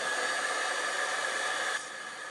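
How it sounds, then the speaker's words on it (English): A heat gun used for embossing blows a steady, close whirring hiss that holds evenly for nearly two seconds, then drops slightly in level just before the end. "I'm going to bring up the magic of the heat gun."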